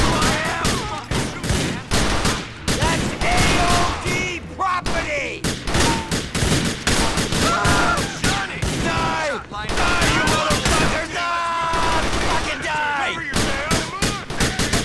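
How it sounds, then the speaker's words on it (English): Heavy gunfire rattles almost nonstop in GTA 4: The Lost and Damned, with dense overlapping automatic bursts and single shots, loud and close throughout, plus brief pauses and a voice under the shooting. "that sounds like a nice gun"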